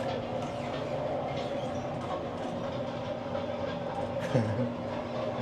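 Inside a narrow walk-through train car at the California State Railroad Museum, the exhibit simulates a moving train with a steady rumbling roll and rail clatter, continuous and fairly close.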